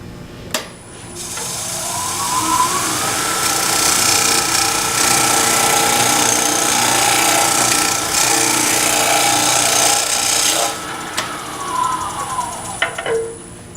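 A bowl scraper recuts the inside of a turned wooden bowl on the lathe, giving a steady rasping scrape that runs for about ten seconds and then trails off, loud and close, with no voices.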